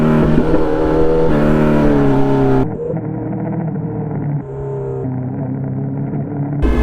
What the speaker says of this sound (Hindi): कौन सी बाइक जा रही है? हार्ले होगी मेरे ख्याल से। हाँ हार्ले ही है।